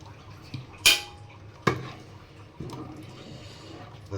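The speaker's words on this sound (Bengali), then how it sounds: "তো এখন একটু নাড়া দিয়ে নিব" A utensil stirs khichuri in a cooking pot with sharp metallic clanks and scrapes against the pot, two loud knocks followed by quieter scraping and shuffling.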